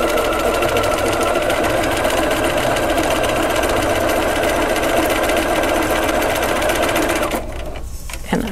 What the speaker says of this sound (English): So this is sewing the two together.